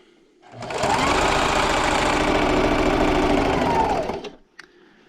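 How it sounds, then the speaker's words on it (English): A sewing machine stitches a placemat in one steady, loud whirring run of about three and a half seconds, with quiet before it starts and after it stops. "And then just keep sewing till I get to my corner."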